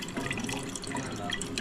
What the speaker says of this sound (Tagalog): lalagyan ko lang siya ng tubig pa ulit